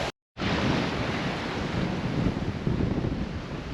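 Strong wind buffets the microphone over steady crashing surf as a sailboat runs before 25 knots of wind through the narrow southern entrance to Port Pegasus on remote Stewart Island; a loud, continuous roar follows a brief dropout at the start.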